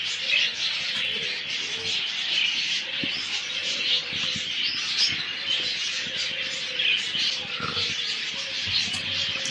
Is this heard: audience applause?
no